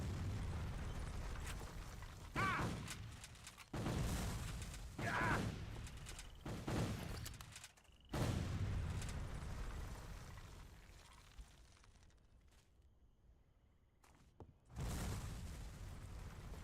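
Loud booming explosions and bursts in a Civil War video game, several heavy blasts spaced a few seconds apart with rumbling decay, followed by a quieter stretch and one more burst near the end.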